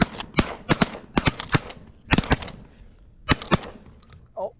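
Shotgun fire during a pigeon hunt: several sharp blasts in rapid bursts from multiple shooters, loud and close, with short gaps between volleys and a brief voice near the end.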